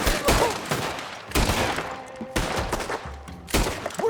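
Rapid gunfire in the video game Red Dead Redemption 2: a dense volley of sharp shots in bursts of several seconds, loud and close, with short pauses between the salvos.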